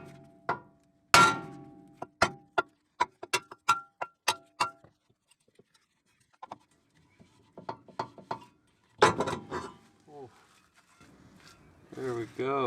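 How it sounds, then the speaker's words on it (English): A hammer strikes a rusted brake rotor on a DC2 Integra, ringing metallic taps in a quick series, then sparser blows, with a voice speaking near the end. "So I'm just gonna tap it with a hammer and hopefully I can break whatever rust is in there"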